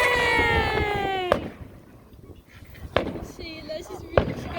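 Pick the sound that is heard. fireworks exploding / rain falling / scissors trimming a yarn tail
fireworks exploding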